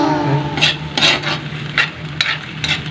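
Sliced papaya being sautéed with sardines in a pan: a close sizzle under repeated scraping strokes of a spatula against the pan, in a rough rhythm of five or six stirs.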